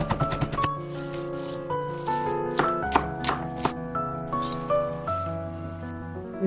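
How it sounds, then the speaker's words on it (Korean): A kitchen knife finely slices a vegetable quarter into thin rounds on a cutting board, a quick run of crisp taps at the start, then scattered knocks beneath soft background music. "길게 몇 번 자른 후 송송 썰어서 불에 담아주세요"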